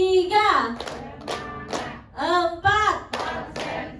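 A training audience in a hotel ballroom joins a rhythmic counting clap game, sharp group claps landing in quick bursts between a leader's loud chanted speech.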